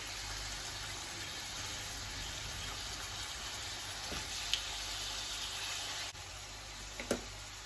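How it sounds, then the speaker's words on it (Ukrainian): Liver frying in a pan for pâté, a steady broadband sizzle running throughout at moderate level, with a couple of brief knocks and clatters near the end. "Смажилась наша печінка з однієї сторони переплавлення. Перевертаємо."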